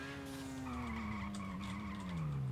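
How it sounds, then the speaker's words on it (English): Hard braking of a supercar in GTA Online, with a steady tire skid that holds for a couple of seconds at a loud level under the engine tone, with no talking. "This is how they were braking."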